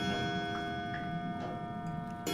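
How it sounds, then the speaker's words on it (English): A clock ticking in the Until Dawn video game, a soft, regular series of ticks a few times per second, faint and close, over a low hum with no talking. "Oh, stupid clock."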